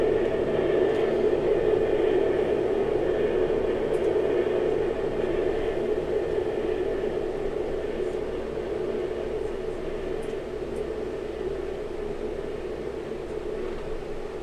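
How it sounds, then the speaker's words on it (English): F-16 jet at full afterburner taking off in the video game Aeronautica, a steady, loud roar with a broad rumbling hum that slowly fades over the length, under occasional talk. "Full afterburner takeoff from the F-16."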